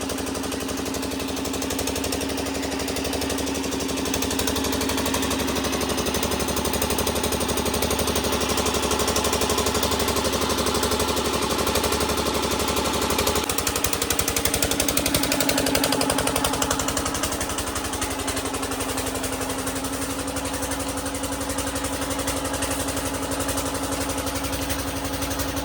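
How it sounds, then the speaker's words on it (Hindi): A generator runs nonstop to power pressure washing of a Massey 7250 and a Swaraj 744 XT tractor, giving a loud, steady mechanical drone close by whose tone shifts partway through as the load changes, with no voices. "जनरेटर भी काफ़ी शोर मचा रहा है"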